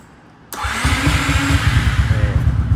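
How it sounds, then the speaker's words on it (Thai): A 2017 Yamaha Xmax scooter with modified parts starts abruptly after a quiet moment. Its engine settles into a loud, close, steadily pulsing idle. "สตาร์ทให้ฟังเสียงเครื่องยนต์เลยดีกว่า"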